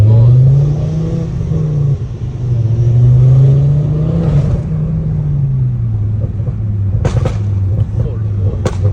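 A rally car's engine roars loud and close inside the cabin, its pitch rising and falling in surges with heavy exhaust rumble, while a voice talks over it and a few sharp cracks come near the end.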